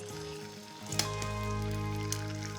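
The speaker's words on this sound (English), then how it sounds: "I'm gonna add a little bit of oil to my pan, and then I'm gonna crack 2 eggs" Two eggs sizzle and fry in a little oil in a pan, a loud steady crackling hiss that swells sharply after a brief quieter start, with faint pops scattered through.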